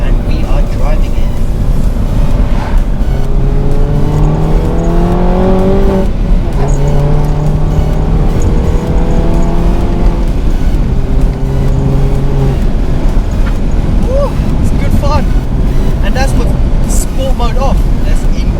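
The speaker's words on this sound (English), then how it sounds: "So guys, we're inside the Mini Cooper S now, and we are driving it." Mini Cooper S R56 fitted with a John Cooper Works exhaust driving: engine drone heard from inside the cabin, with rising tones as it accelerates through the gears and steady road roar, loud and close under someone talking.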